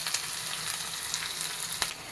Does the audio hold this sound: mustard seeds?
yes